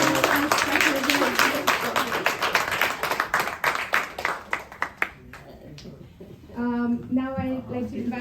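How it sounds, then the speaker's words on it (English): Applause at a stage event, a crowd clapping loudly and then thinning out to scattered claps before a voice speaks over a brief tonal sound at the end. "please give her a round of applause."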